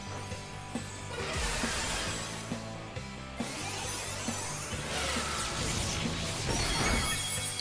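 Crashing, shattering impact effects from a Terra Blast attack in a Pokémon battle game, several sharp bursts over a dense, continuous rumble of game sound, loud and with no talking.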